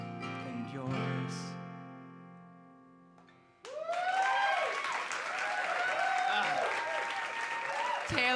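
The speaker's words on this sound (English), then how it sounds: "Don't clap for Chris Peters yet." An audience at a live comedy show breaks into applause after a held musical tone fades, a sudden dense burst of clapping that continues steadily and close for several seconds.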